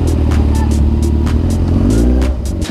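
A Honda CRF 150L motorcycle is ridden, its mid-pitched engine droning loudly and continuously with small rev changes, along with rhythmic clattering and thumps from the road.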